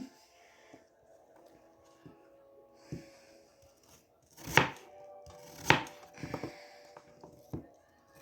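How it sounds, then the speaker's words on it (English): A knife chops a peeled, cored raw apple into small wedges on a board, giving scattered light taps and then two sharp, loud cuts followed by a quicker cluster of chops, close up with no talking. "So this is how I do my apple pieces, just like that, like small wedges."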